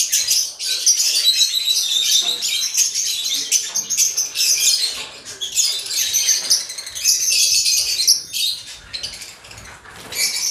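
African lovebirds in a large cage setup chirping nonstop, a dense, bright chatter of overlapping tweets and squawks with occasional wing flutters, continuous throughout.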